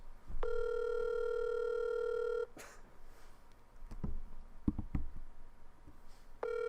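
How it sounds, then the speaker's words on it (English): A telephone call: a steady dial tone, then a cluster of keypad taps and tone beeps, and a ringback tone resuming at the end, heard close over a faint background. "We're calling Bacon's dad here"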